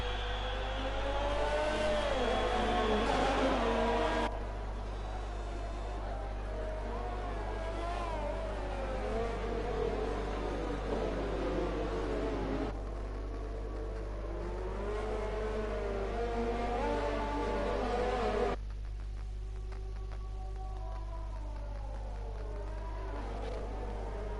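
Race car engines whine and rev in a racing video game on the Hungary circuit, with sustained tones rising and falling as the cars shift and accelerate, and a continuous steady drone underneath.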